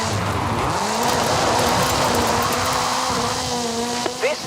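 Ken Block's Hoonigan Gymkhana 10 Ford Focus RS RX with a 2-litre turbocharged front-mounted engine and all-wheel drive, drifting in Forza Horizon 5 in Mexico, a loud continuous engine drone rising in pitch, with tire squeal toward the end.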